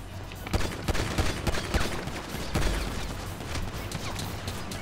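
Rapid gunfire in GTA 5, heard as a steady stream of sharp shots with several louder cracks, sustained and close throughout with no speech over it.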